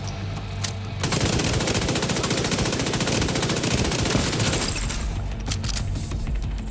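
Rapid, sustained SMG fire in The Division 2, a loud continuous burst of shots lasting several seconds with a short gap before it.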